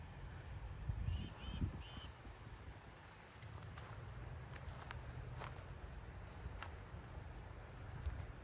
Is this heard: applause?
no